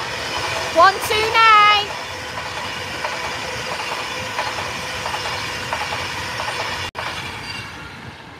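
A train with a class 47 locomotive at the rear passes at Crewe station on the West Coast Main Line, a steady loud rumble and rolling hiss with a brief squeal early on, while people talk over it.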